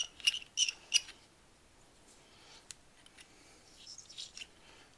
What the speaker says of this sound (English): Now you see why everybody hates trimming brass